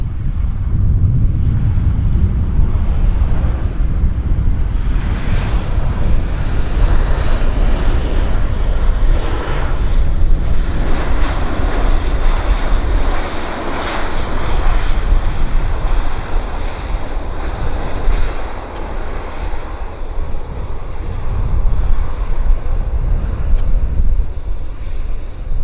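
A long-haul airliner arriving from Toronto lands at Vancouver Airport and rolls down the runway, a broad, loud engine roar with wind-like rushing that holds steady and wavers slightly throughout, with no voices.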